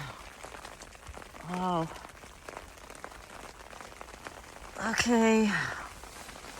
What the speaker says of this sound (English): I'm just sitting here listening to the rain. It's loud.